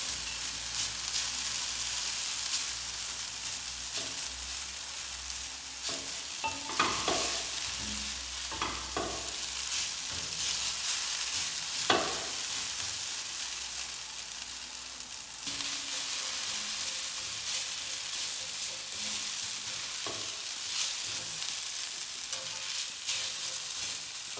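Potatoes fry in a pan with a steady soft sizzle, broken by a few sharper scraping clicks as they are stirred, fairly quiet and close, with no talking.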